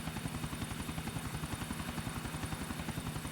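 Helicopter in Grand Theft Auto IV flying steadily, a rapid, even rotor chop with a low engine drone, constant and moderately loud with no talk.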